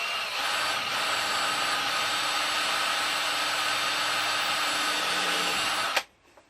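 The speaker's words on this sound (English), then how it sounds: "He's just doing his pilot holes on the end," A cordless drill whines steadily and close by while boring pilot holes into the top rail of a brassica cage frame at an allotment, running continuously before stopping abruptly near the end, after which a voice speaks briefly.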